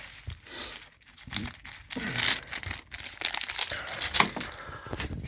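Plastic bag crinkling and rustling as 12-amp fuses for a solar inverter setup are dropped in, with irregular close crackles and crunches throughout and no talking.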